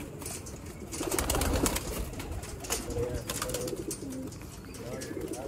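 Sialkoti pigeons coo softly in a loft, with low repeated calls, occasional wing flaps and a voice talking in the background.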